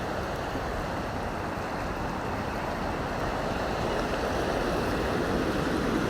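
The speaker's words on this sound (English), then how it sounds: "There's white horses at the bottom of the water being churned up over the stones and rocks below" Churning river water tumbles over stones and rocks below a pebbly beach, a steady, loud, unbroken rush with no voices.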